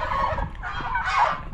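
Turkeys of the Royal Palm and Bourbon Red varieties gobble in overlapping bursts, a dense, loud chorus of rattling calls that swells near the end.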